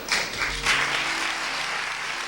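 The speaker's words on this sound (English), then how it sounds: "the whole church bursts into applause" A church congregation breaks into applause, a dense wash of many hands clapping together, strongest at the start and then holding steady, filling the room at moderate loudness.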